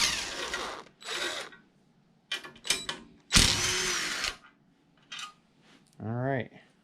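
A power tool, likely a drill or driver, removes two bolts from a garden tiller in stop-start bursts of whirring and ratcheting, ending with a rising motor whine, close and fairly loud.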